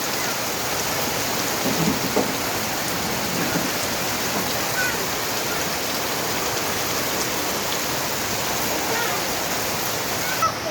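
Heavy rain falls in a steady, dense roar on a rainy day, continuous and unbroken throughout, with no voices clearly standing out.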